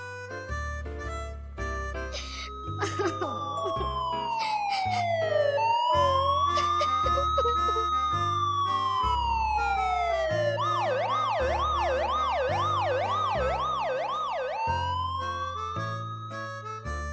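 Ambulance siren wailing in long rising and falling sweeps, then switching to a fast yelping warble, loud and continuous over a steady backing of music, with no talking.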